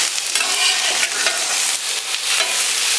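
Seasoned brats, peppers and onions being tossed with oil, a loud continuous wet stirring and slick tumbling sound with light sizzle, close up and without talk.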